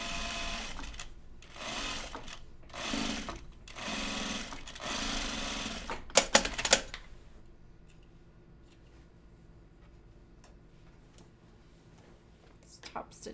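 A sewing machine stitches denim along a 5/8 inch seam of a pair of Dawn jeans, running in several close, loud bursts of whirring with brief pauses between them before the room falls quiet.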